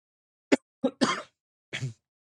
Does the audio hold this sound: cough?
yes